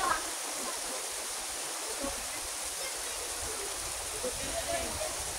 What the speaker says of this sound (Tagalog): Ito yung falls.